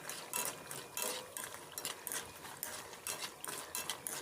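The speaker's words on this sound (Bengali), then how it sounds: "বড়িটা দেওয়ার পর ভালো করে বড়িটা ভেজে নিচ্ছি।" Lentil dumplings (bori) frying in oil over a medium gas flame, a faint continuous sizzle with repeated light stirring scrapes and clinks of a spatula in the pan.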